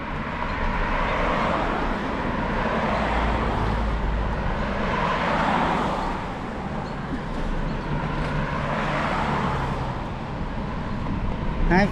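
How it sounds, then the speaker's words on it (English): Road traffic heard from a bicycle, a steady broad wash of passing cars and heavier vehicles swelling and fading around the rider, with no voices. "There's a lot of traffic going on here."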